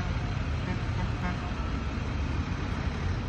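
A hydro excavating vacuum truck approaches on a town street, a steady low engine and roadway rumble heard from a distance, holding even throughout.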